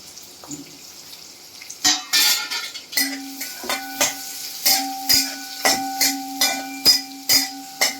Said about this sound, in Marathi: आता मी कांदा परतून घेते.